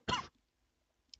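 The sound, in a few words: burp and cough at the same time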